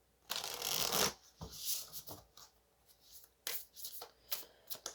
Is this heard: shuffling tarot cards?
yes